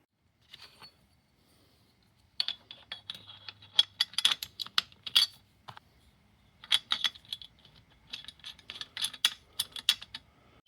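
A pliers wrench unscrews a metal fitting on an Eley hose reel, giving bursts of dry clicking and ratcheting scrapes in irregular clusters, close and fairly quiet, with short pauses between turns.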